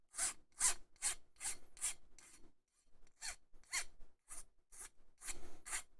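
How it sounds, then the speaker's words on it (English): A hand file rasping back and forth across a workpiece, about a dozen short, close strokes in an uneven rhythm with brief pauses between them, with no other sound. "Forever filing stuff."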